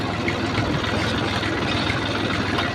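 A tractor engine idles close by in a steady low rumble with an even mechanical throb, constant in level throughout.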